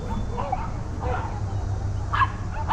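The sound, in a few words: dogs barking at a dog show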